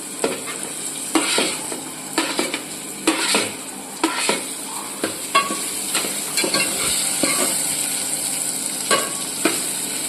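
Peas and onion sauté in a hot pan for fada khichdi, a steady sizzle broken by repeated scraping and clinking stirs of a spoon against the metal, with no talk.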